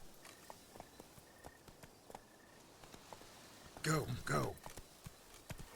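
Hooves of Roach, Geralt's horse in The Witcher 3, clopping in quiet, steady steps. A louder snort or whinny rises midway, while a voice speaks briefly.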